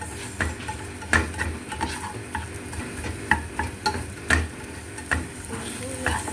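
Onions frying in a pan, a steady close sizzle broken by repeated scraping and stirring knocks of a utensil, with no talking.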